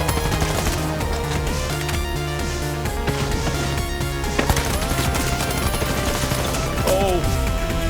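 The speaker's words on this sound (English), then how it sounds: "This guy's shooting me." Rapid gunfire from an online shooter match in The Finals, dense bursts of shots and impacts layered over busy game audio and music, close and loud throughout.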